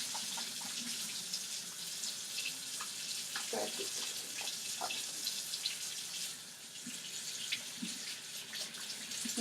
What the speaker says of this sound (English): So first I'm going to wash my hands under hot water for about 15 seconds with soap.